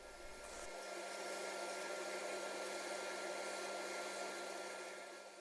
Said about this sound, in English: Just finishing off the profile on the spindle sander.